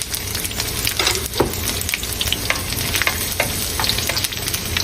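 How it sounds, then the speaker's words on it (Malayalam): Chopped garlic and green chilies frying in hot coconut oil for a potato stir fry, a steady loud sizzle with brief stirring scrapes and clatters running through, no voices. "ഇനി നമുക്കിതിലേക്ക് ആദ്യം തന്നെ അരിഞ്ഞു വെച്ച വെളുത്തുള്ളി, അതേപോലെ പച്ചമുളകും ഇട്ടിട്ട് ഒന്ന് ജസ്റ്റ് മൂപ്പിക്കാം"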